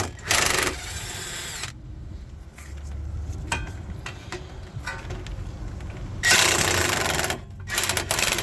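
An impact wrench works on a 17 mm front brake bolt of a Honda CR-V, firing in two loud bursts at the start and near the end, separated by quieter shop sounds.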